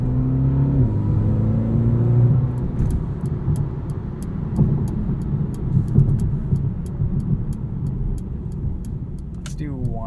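A 2020 Mercedes-AMG A35 Sedan's engine drones and rumbles while driving, its pitch shifting as it pulls, heard close from inside the cabin with someone talking over it and light ticking sounds.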